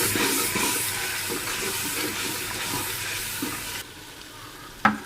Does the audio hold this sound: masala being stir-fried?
yes